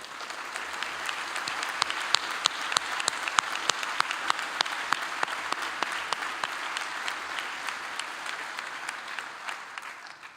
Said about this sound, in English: We got to give you one more round of applause.